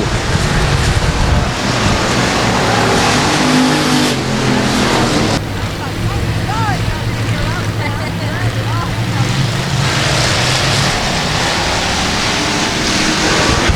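Factory stock race cars run a main event at Texarkana 67 Speedway, a loud, continuous engine drone that rises and falls as the cars circle the track. A commentator talks over the noise throughout.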